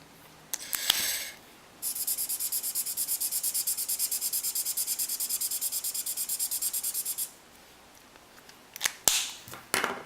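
Copic markers are rubbed back and forth across paper to blend colors, a long run of rapid, even scratchy strokes bracketed by a few sharp clicks and taps, close and quiet with no voices.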